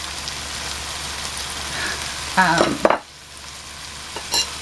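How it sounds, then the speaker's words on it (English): Hamburger meat, rice and vegetables being stirred in a pan: a steady hiss of frying with a burst of louder scraping and clatter near the end, then the sizzle drops away. "now we mix that all in together. And we let this cook for a few minutes until the hamburger is warmed all the way through."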